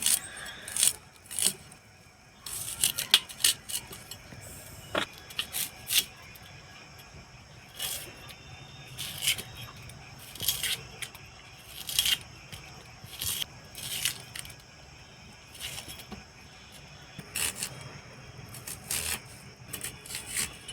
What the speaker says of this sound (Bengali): এখন আমি পেঁয়াজ কাটছি